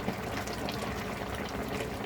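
Pakbet (Filipino vegetable stew) bubbles and churns steadily in a pot at a rolling boil, a continuous close gurgling wash with no pauses.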